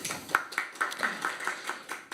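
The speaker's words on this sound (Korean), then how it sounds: "예, 박수 쳐주십시오" An audience at a Korean political gathering claps in a steady, moderately paced rhythm, roughly ten sharp hand claps ringing out fairly close and distinct, with no voices over them.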